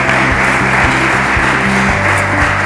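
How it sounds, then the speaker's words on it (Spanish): Steady applause from a crowd at a student awards ceremony in Grazalema, Spain, a dense continuous patter of clapping at even loudness throughout. "Recibimos con un aplauso también muy cariñoso a Alejandro Valle González."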